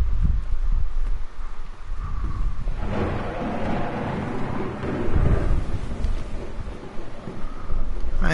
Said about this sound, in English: I know, it's stormy.